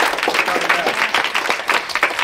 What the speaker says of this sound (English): we want to give you, the audience, a round of applause